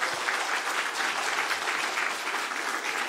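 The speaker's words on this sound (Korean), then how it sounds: "우리 목사님 나오실 때 큰 박수로 한번 보실까요?" A church congregation applauds the pastor at a special revival service, steady dense clapping filling the room without a break, fairly loud and close, with no voices standing out.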